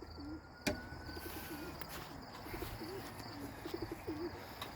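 Racing pigeons coo repeatedly at their home loft after returning from a young bird race, a steady low rolling murmur over a busy outdoor background, with one sharp knock early on.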